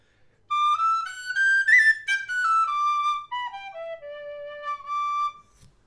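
A Goldfinch tunable high D tin whistle plays a clear melodic line of sustained, bright notes that rise and fall, with short breaks between phrases, close and alone.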